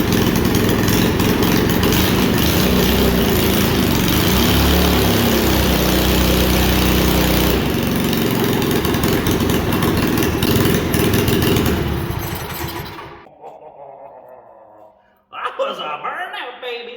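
The engine of a 1979 Chrysler Sno-Runner revs hard and loud for about twelve seconds during a burnout, then dies away, followed by a brief voice.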